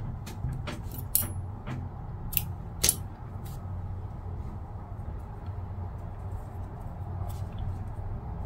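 Scissors cut yarn while crocheting a fruit-shaped hairpin, giving a few sharp, close snips and clicks in the first three seconds over a steady low background hum.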